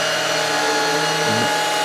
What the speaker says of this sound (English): I thought you was vacuuming the kitchen.